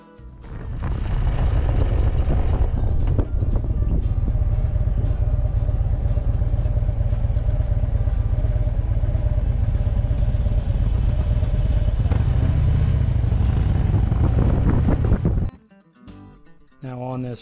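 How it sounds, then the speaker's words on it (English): A 2013 Harley-Davidson Switchback and a 2009 Harley-Davidson Sportster 1200 Low ride on a road near a covered bridge, the engines giving a loud, steady rumble with wind noise that cuts off near the end. "I am on a 2013 Harley Davidson Switchback"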